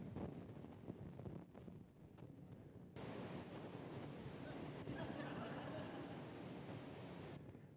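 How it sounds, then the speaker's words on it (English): A loud, steady rushing like water pouring down a waterfall fills the space, a broad continuous roar that swells abruptly about three seconds in and holds to the end, with no talking over it. "it's like a waterfall"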